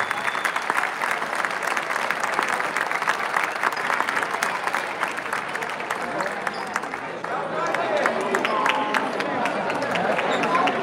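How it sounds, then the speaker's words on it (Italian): Sustained applause from an audience at a basketball award ceremony presenting the Canestro d'Oro 2023, with dense, steady clapping and crowd murmur that swells slightly near the end. "Facciamo ancora un grande applauso"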